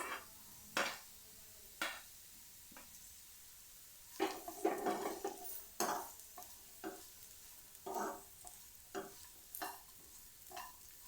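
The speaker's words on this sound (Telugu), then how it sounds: "కొంచెం సేపు లో ఫ్లేమ్లో వేయించండి" Beans and vegetables for veg fried rice sizzle in a pan over low flame, with soft frying hiss under repeated spatula scrapes and clinks against the pan, some louder stirring bursts.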